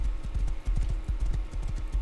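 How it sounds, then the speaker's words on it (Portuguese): Horse hooves clip-clop in the Minecraft game, a quick, steady run of close hoof strikes repeating for about two seconds with no talk over them. "Principalmente pro cavalo."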